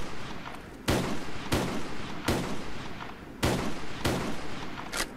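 Loud WA-2000 sniper rifle shots from a Call of Duty game, five sharp blasts spaced roughly a second apart, each with a short echoing tail.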